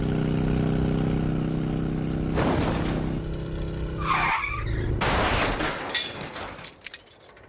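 A car skids through a corner: a loud, sustained engine drone gives way to a harsh tire screech and scraping burst, then broken clattering noise that thins out at the end.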